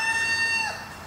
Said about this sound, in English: fucking rooster